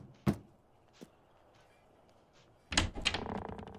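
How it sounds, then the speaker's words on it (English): Knocking on a door in Fable II: two separate, sharp knocks well apart, then a louder burst of busier, clattering sound toward the end. "Knock on the door and let's see who answers."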